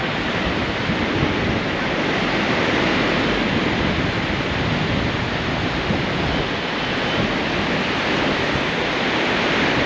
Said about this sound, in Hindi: बहुत ही तेज़ हवा चल रही है